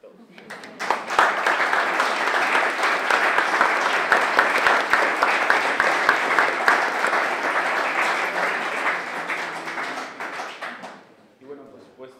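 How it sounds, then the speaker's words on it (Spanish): Sustained audience applause after a guitar quartet concert, a dense steady wash of many hands clapping for about ten seconds before fading out. "Así que dense un aplauso a todos."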